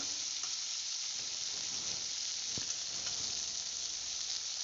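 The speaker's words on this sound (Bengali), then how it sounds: "বেগুনটা দিয়ে এবারে খানিকক্ষণ ভাজবো" Eggplant and green and red tomatoes fry in a pan, giving a quiet, even sizzle that holds steady throughout with a single faint knock and no talk.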